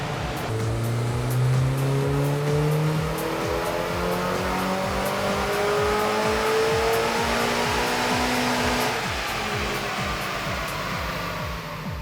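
A turbocharged Mazda MX-5 on a dyno is held on wastegate pressure. The engine revs climb in a long, continuous rising pull with turbo whine and a dense exhaust buzz, loud and alone.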